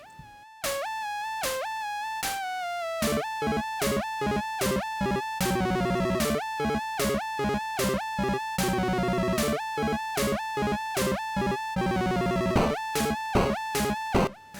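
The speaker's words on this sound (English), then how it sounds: "Nice, easy mode music." Chiptune-style music from a 1983 musical intervals video game on easy mode, with bright square-wave tones in quick repeated staccato notes and a steady pulsing rhythm, loud and continuous with no talking.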